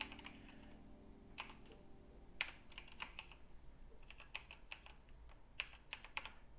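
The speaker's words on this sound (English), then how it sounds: "So for right now, I'm just going to go ahead and type it in manually." Typing on a computer keyboard: a steady run of light, close key clicks with a few louder taps, irregular in rhythm, over a low background hum.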